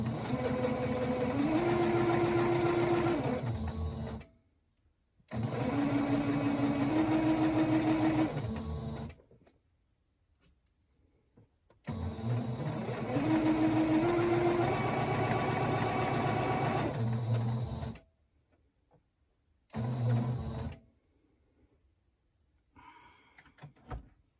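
A sewing machine stitches the edge of a fabric tarot card bag in several loud bursts of steady whirring, with short pauses and clicks between runs and no talk.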